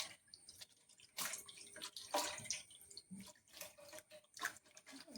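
A hand dips into a bowl of salt water, giving soft intermittent splashes and drips that swell and fade over several seconds, close and fairly quiet, with no talking.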